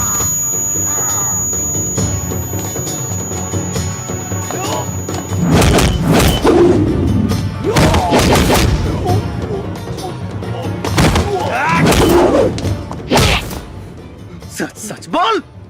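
Heavy thuds and whacks of a beating land in a Bhojpuri action film fight scene, several sharp loud blows in bursts after a quieter start, mixed with shouting voices and background music.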